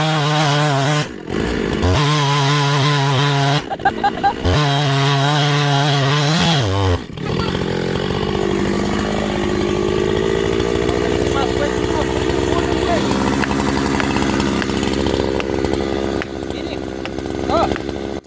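A chainsaw cuts the back cut to fell a coconut tree, revving loudly and close in short bursts before settling into a long, continuous cut through the trunk.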